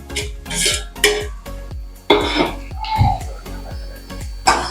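Tomatoes stirred into frying onions in a pan, with a close series of sharp metallic spoon scrapes and clinks against the pan in an uneven rhythm, and a faint sizzle between strokes.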